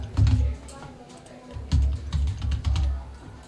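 Keys on a computer keyboard are tapped in short irregular bursts while someone talks quietly in the background.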